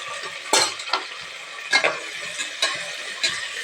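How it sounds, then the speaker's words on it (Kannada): Food frying in oil in a pan, a steady broadband sizzle with several sharp stirring scrapes and clicks at irregular intervals, close and fairly loud, no talking. "ಇದು ಅಲ್ಲಿ ಮಟ್ಟ ಹುರಿಬೇಕು ಎಣ್ಣೆ ಒಳಗೆ"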